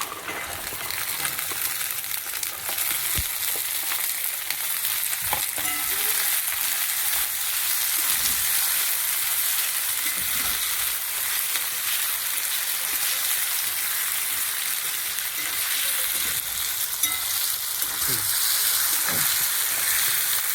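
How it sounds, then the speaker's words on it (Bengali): Peas and potatoes fry together in a pan with onion, ginger and garlic paste, giving a steady, dense sizzle that holds up close and even throughout, with no talking. "এটা হালকা ভাজা হয়েছে"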